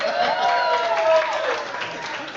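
Comedy club crowd applauding during a stand-up set, a moderate wash of clapping and murmuring voices with some tonal crowd sounds, sustained and fairly even throughout.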